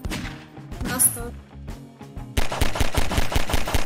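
Pistol gunshots in Garry's Mod during a zombie fight, sharp shots in short uneven clusters, then a quicker steady string of rapid fire near the end, with a voice talking at times.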